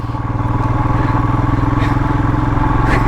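Royal Enfield motorcycle engine thumping steadily and loudly up close while riding through the windy Himalayas on the way to Kaza, with a constant pulsing exhaust rhythm throughout.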